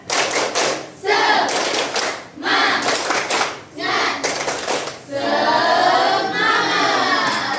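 A group of children in a classroom claps out the rhythmic 'tepuk semangat' cheer, bursts of patterned hand claps mixed with shouted chant syllables, separated by short pauses and ending in a longer, sustained shout.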